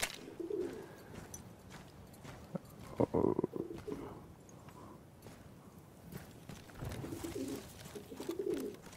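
Carrier pigeon in the Battlefield 1 video game cooing in soft, low repeated phrases, with a few short thumps and bursts of noise between them, close by and with no talk.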